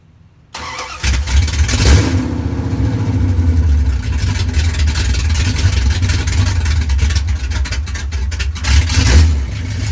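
A 1972 Dodge D100 pickup truck engine cranks and fires up, then settles into a loud, rough idle with a few blips of the throttle, close and continuous without voices.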